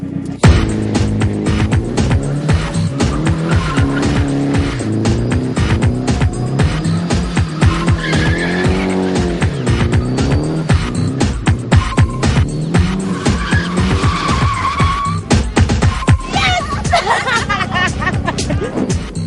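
A drift car doing donuts with a female driver in Cape Town, its engine roaring and tires screeching continuously and loudly, with a crowd chattering throughout.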